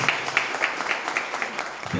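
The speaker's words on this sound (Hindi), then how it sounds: "तो अब ये जो आप सब ताली बजा रहे हैं" Audience clapping at a business seminar, a steady patter of many hands at moderate loudness with rhythmic pulses, continuing for a couple of seconds.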